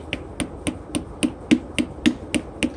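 Pistons are tapped lightly into a Cummins engine block during an 03 rebuild: about ten sharp, evenly spaced taps roughly every quarter second, crisp and close in a quiet room.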